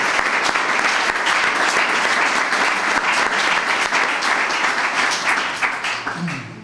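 An audience at an Italian volleyball club's coaches presentation breaks into loud, sustained applause, a thick continuous roar of many hands clapping that holds steady before tapering off near the end.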